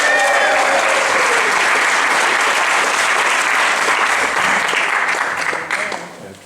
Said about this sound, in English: Can we please give a huge cheer for Patti Webb?